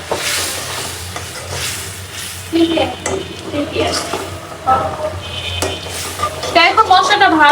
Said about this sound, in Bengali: এখন মশলাটা ভালো করে কষাই